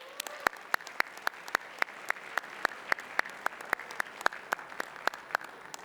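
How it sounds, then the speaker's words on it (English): A sparse audience at a high school mock national convention claps, with scattered individual claps standing out sharply in an irregular rhythm over a soft background of hands, and no one talking. "I would like to offer up a round of applause for everyone that's put in a lot of hard work"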